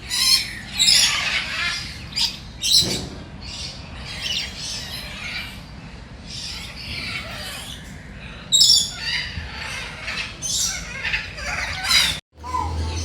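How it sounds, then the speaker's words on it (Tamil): Loud, harsh squawks of a red and blue lory in repeated bursts, with a few chirps between them and faint background noise, ending abruptly. "ரெட் அண்ட் ப்ளூ லாரியன்னு சொல்லி இந்தோனேசியாவுக்குரிய ஒரு பறவை வகை"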